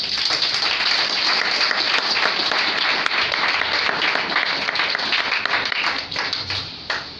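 A church congregation applauding God during a sermon, loud, dense clapping from many hands filling the room steadily before thinning toward the end.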